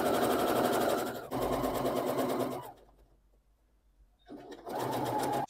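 Sewing machine running a straight stitch to attach English embroidery (broderie anglaise) trim onto fabric, a steady close whirring burst that stops for about a second and a half, then starts up again.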